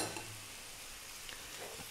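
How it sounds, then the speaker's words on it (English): Green beans sizzle steadily in a pan over medium heat while being stirred constantly, a dense close frying hiss with faint scraping of the utensil. "And again, just 3 minutes on this medium heat, stirring all the time now."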